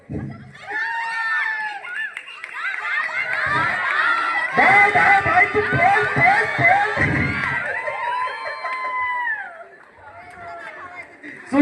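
Crowd at a village game in Konkan shouting and cheering loudly, with children's voices and excited chatter swelling for several seconds, broken by bursts of clapping in the middle before fading.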